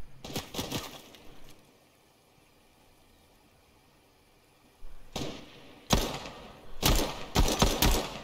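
Handgun fire in the video game Fortnite, with a short burst of sharp shots, a quiet stretch, then several louder clusters of rapid shots close up near the end.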